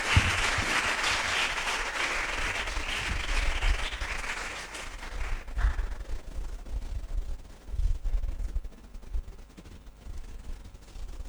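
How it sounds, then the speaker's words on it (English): A crowd applauds contestants arriving at a national quarter-final competition, steady clapping for about six seconds that then thins into scattered claps and hall noise. "please welcome them with a round of applause"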